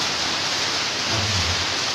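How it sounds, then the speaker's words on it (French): Heavy rain falling in Brazzaville, a constant broadband hiss of downpour with a faint low rumble swelling briefly midway, steady and close with no voices. "Vraiment, ici à Brazzaville, il pleut énormément."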